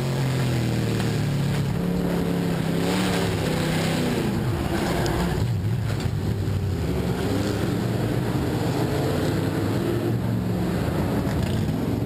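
Street stock race cars roar around a speedway oval in a continuous loud engine drone, pitch rising and falling as the field runs down the back straightaway under caution.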